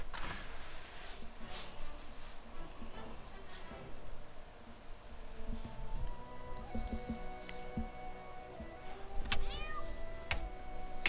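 A cartoon cat meows in South Park: The Stick of Truth, with a few short mews over the game's background sounds and music.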